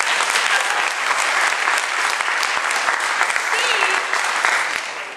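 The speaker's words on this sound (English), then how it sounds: "That deserves an applause." A crowd claps steadily and loudly throughout, a dense wash of applause that holds even and then begins to fade at the very end.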